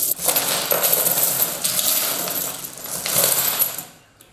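Old coins clink and jingle continuously, a bright, dense metallic rattling that swells in bursts and fades out at the end, close and fairly loud with no voices.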